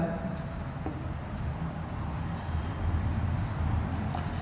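A pen scratches steadily across paper while writing out a maths volume equation, a continuous soft scraping texture close to the microphone with no pauses.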